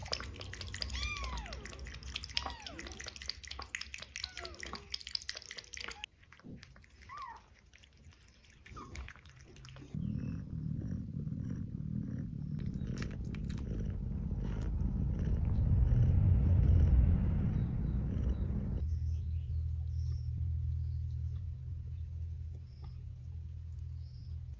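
A stray cat purrs in a low, steady rumble close by, swelling louder in the middle stretch before easing off, with brief faint speech and soft rustling early on.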